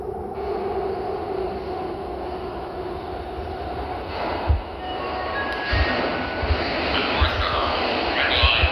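A MARTA Red Line subway train pulls into an underground station, a steady loud rumble with rattling wheel clacks and squeals building over several seconds, while faint voices murmur in the background.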